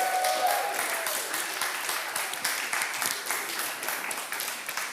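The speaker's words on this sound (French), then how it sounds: "On peut les applaudir." Audience applause fills the hall at the KidsGames 2022 opening ceremony, a steady dense wash of clapping that holds at an even level throughout, with a faint voice briefly audible near the start.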